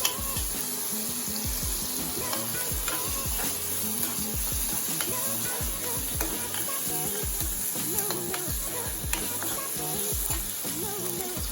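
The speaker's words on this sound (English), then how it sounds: "nicely let them fry until the brown or golden color" Onions fry in a pan for an egg curry, a steady close sizzle with frequent scraping and stirring clatter throughout, no voices.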